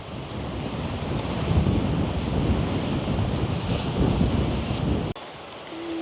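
Strong wind blowing across open rice fields in a village buffets the microphone in a loud, continuous roar, cutting off abruptly near the end to a quieter hum.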